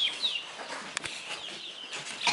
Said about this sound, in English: we're gonna go down and check on little chickies